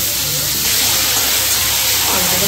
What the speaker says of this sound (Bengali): এবার আমি ফুলকপিগুলো ভেজে নিচ্ছি